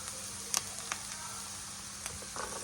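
Onions frying in a pan for pav bhaji: a continuous soft sizzle with a few small pops and light stirring clicks, close and steady, with nobody talking.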